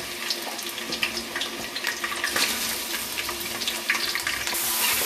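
Chicken pieces dropped into hot oil for chicken karahi, giving a steady, close crackling sizzle that continues without pause.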